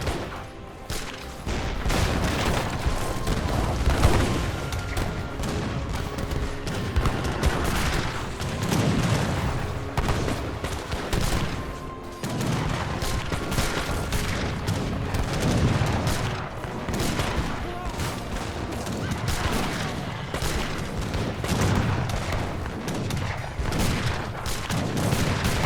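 Cannon and culverin artillery firing in a large battle in Age of Empires 3, a dense, continuous roar of overlapping booms and volleys with no pauses.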